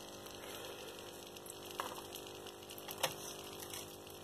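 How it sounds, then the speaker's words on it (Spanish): A waterfall-style cascade filter runs on a planted guppy aquarium, giving a soft, steady trickle of falling water with a faint pump hum. It is quiet and continuous, with a couple of small splashes. "el filtro, cascada."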